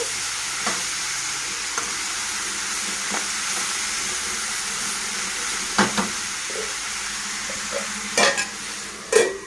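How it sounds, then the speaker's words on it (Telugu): Steady sizzling of broad beans frying in a pan, with occasional stirring scrapes and clinks over the continuous hiss. "ఆల్రెడీ చిక్కుడుకాయ వేగిపోయింది"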